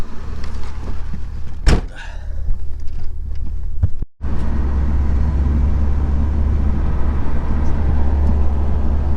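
Nissan 240SX S14 Kouki with a high-mileage engine on a test drive: a door thuds shut, then after a brief cut the car's steady interior engine and road drone continues, close and constant.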